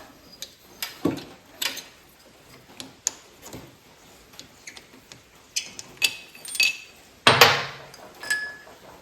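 Factory toolkit spark plug wrench removing a Champion N4 spark plug on a 1967 Triumph T100C motorcycle: sparse, close metallic ticks, taps and clinks at irregular intervals, ending with a louder scraping clatter.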